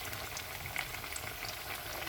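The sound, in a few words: shrimp pakoras frying in hot oil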